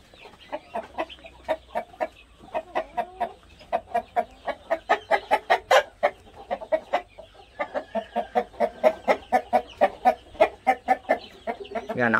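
Chickens in a coop cluck and chatter steadily in rapid, repeated bursts, close by, with a dense rhythmic clucking that continues throughout.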